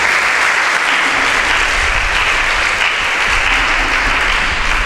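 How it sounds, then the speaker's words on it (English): Steady, loud applause from an audience at a Nigerian school debate, with thick, continuous clapping and no pauses throughout. "A round of applause for yourself."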